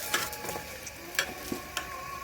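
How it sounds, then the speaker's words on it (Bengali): Eggplant slices fry in hot oil, a steady low sizzle with faint crackle and a few sharp clinks and stirring knocks scattered through, close by and with no one talking. "ওই তেলে বাকি বেগুনগুলো ভেজে নিব।"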